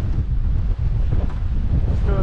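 Strong Tropical Storm Eta wind in Islamorada roars and buffets the microphone continuously, a loud low rumble with gusty fluctuations throughout.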